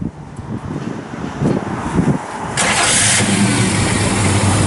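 A 1966 Chevy II Nova engine with ceramic-coated headers and dual exhaust cranks and catches, settling into a loud, steady rumbling idle with a deep exhaust tone.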